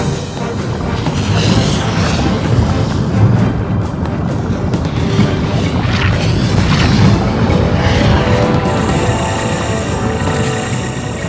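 Cartoon volcano erupting again, a loud sustained rumbling roar with crashing bursts and booms rolling through, no voices.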